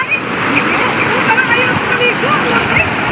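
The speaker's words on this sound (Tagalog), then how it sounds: "yung tubig niya umaapaw kahit walang tao, pero sige pa rin yung apaw ng tubig" River water spills over and flows on steadily in a loud, continuous rushing wash with faint splashes, close by and without pause.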